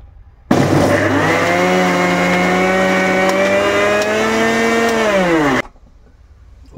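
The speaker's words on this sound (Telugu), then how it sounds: "మిక్సీ కొట్టేస్తాను." Mixer grinder blending green chillies, onions, ginger and garlic into paste runs as one steady, loud whirring motor whine for about five seconds, then cuts off abruptly.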